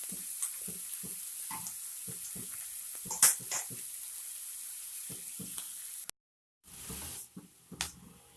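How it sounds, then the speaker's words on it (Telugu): Onions fry in a pan for a tomato curry, giving a faint sizzle under a run of soft, rhythmic scrapes and taps from stirring, a brief silence, then a few more stirs. "ఇవన్నీ మంచిగా ఫ్రై కావాలి."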